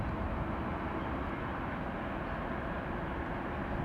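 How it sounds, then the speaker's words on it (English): The heavy NS310 freight train rumbles past with a steady, loud, low roar that stays constant throughout, with no voices over it. "Yep, that's the NS310 there. It's a big train."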